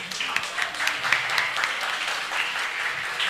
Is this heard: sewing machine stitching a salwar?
no